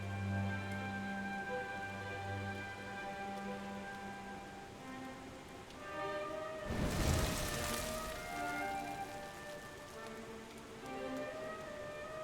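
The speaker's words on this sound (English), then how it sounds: "Looks like the rain's dying down." Steady rain pours in a Dragon Quest XI cutscene, a constant hiss of drops on surfaces with a brief louder burst midway, soft background tones running under it and no voices.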